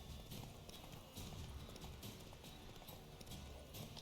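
Horse hooves clip-clopping in a video game, a steady quick trotting rhythm of hollow hoof strikes under constant faint game ambience.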